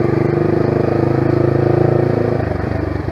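A Yamaha R15 V3 motorcycle rides off with a loud, close engine drone that holds a steady pitch, then drops briefly as it shifts up into second gear.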